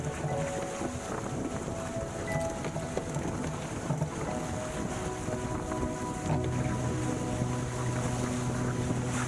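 A sailboat racing fast at 10-11 knots with wind from the side during the Lysekil race, heard as steady loud rushing water and wind buffeting the microphone, continuous hull and spray noise with no talking.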